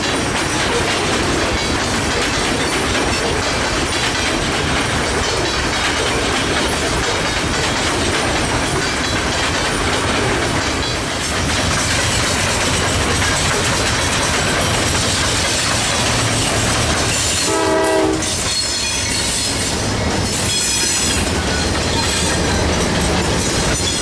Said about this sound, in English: Q647 is a daily manifest freight train running out of Chicago, Illinois, bound for Waycross, Georgia